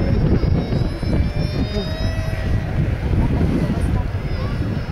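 An Avro Vulcan bomber about to touch down on a 10,000-foot runway at an air show, its loud, rough jet roar rumbling steadily with whining engine tones, someone talking over it.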